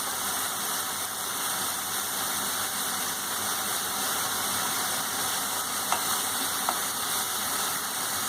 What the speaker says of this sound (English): Now just after letting it fry for 2 to 3 minutes